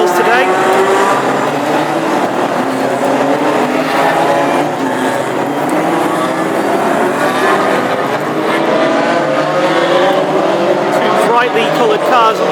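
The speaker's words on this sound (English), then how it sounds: "And now we go on the installation laps." Classic hot rod race cars roar through installation laps at Hednesford Hills raceway in bright sunshine, a continuous loud engine drone with shifting revs throughout, while a commentator talks over the noise.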